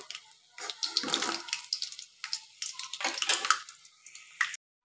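Homemade kurkure is lifted out of hot frying oil with a utensil, giving irregular bursts of close bubbling and metal scraping with short pauses between scoops and no talk.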